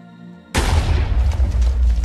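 Fire TNT from a Minecraft TNT mod detonates with one sudden loud boom, then a dense roaring burst of flames shooting out that keeps crackling and rumbling without letup.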